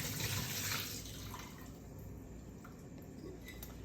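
Water is poured off a jar of stored celery and carrots, a quiet steady splashing trickle into a sink, slightly louder at the start and then settling into a constant flow.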